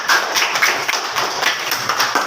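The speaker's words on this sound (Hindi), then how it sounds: "ताली बजाओ।" Children in a school classroom clap together, a dense run of quick, fairly loud claps lasting a couple of seconds without pause.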